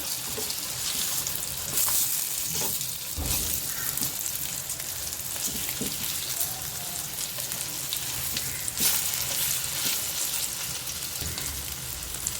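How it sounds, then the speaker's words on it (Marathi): Hara bhara kebab tikkis fry in hot oil in a pan, one after another, filling the space with a dense, continuous crackling sizzle like steady rain, with a few louder spits and pops up close. "तेल आपलं तापलं आहे त्याच्यात एक एक टिक्की टाकते"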